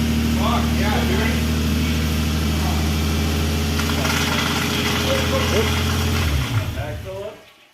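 Lexus IS300 fitted with a GTE engine idles loudly on its first start, a steady harmonic rumble under excited voices, then cuts out abruptly near the end.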